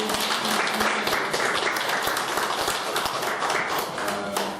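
A large audience at a lecture on the sunshine policy gives sustained, dense applause that stays loud and even for several seconds, with faint voices underneath.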